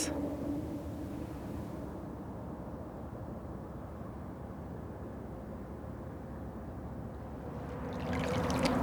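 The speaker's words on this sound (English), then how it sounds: "The sound of the water is so soothing." A river flows with a steady broadband rush of water that stays constant and moderately loud throughout, growing slightly toward the end, with no voices.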